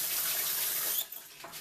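Tap water runs while a seasoning packet from a corned beef brisket is rinsed, a close steady hiss of flow that cuts off abruptly halfway, followed by faint drips and handling.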